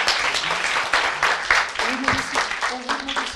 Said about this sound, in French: On va aussi faire un tonnerre d'applaudissements à Pierre Kerner et Benjamin Huzan